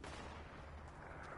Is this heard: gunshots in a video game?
yes